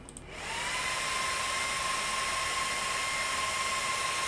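Fans on an AIO liquid cooler ramping up to full speed, a loud steady whooshing rush of air with a faint high whine, rising in the first half second and then holding constant, no talking.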